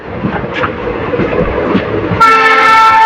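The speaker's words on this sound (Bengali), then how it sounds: "এদিকে ট্রেন যাচ্ছে" A train passes close by, a steady rumble of wagons building as a bright, sustained horn-like tone enters in the last second and rings loud over the rolling noise.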